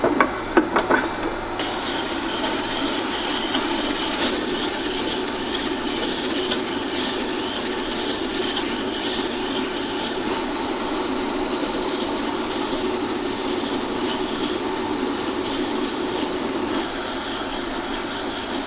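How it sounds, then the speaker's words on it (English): Steady abrasive rasping hiss of a skew chisel bevel held against a wet grinder wheel, continuous and close for the whole stretch, opening with a brief clatter, no speech over it. "I'm pretty happy now that I've ground that whole bevel"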